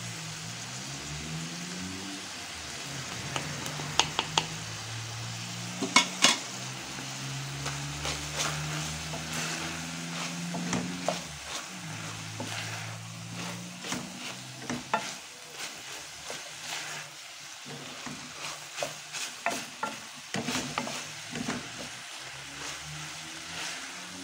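Food sizzles and crackles steadily in a hot pan for a long stretch, with occasional stirring scrapes and clinks over a low background hum, as chopped olives fry for a cassava and ground beef dish.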